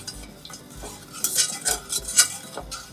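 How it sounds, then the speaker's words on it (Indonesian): A utensil stirs a pot on a stove, with repeated scraping and clinking strokes against the metal in an uneven rhythm, fairly close and without talk. "Kita masak di atas api sambil diaduk-aduk ya adik-adik"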